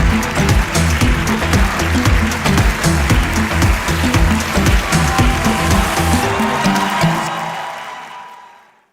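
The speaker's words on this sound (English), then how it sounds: "There you go, a round of applause for Canex." Applause from the audience at the 30th Afreximbank Annual Meetings 2023, a large business conference in a hall: dense, sustained clapping at steady loudness that fades out toward the end.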